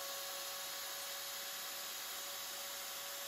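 A small router spinning a 1/8 inch ball nose cutter at 30,000 RPM during five-axis cutting gives a steady, faint high whine with an even hiss, unbroken for the whole stretch.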